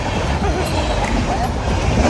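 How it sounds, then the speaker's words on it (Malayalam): A train passes close by with a loud, rumbling rolling roar of wheels on rails, brief and steady. "ഓ ട്രെയിൻ."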